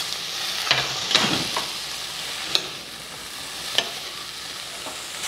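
Ridge gourd soup ingredients sautéing in a pan, a continuous close sizzle with a few scraping stirs and sharp utensil taps against the metal, no talking.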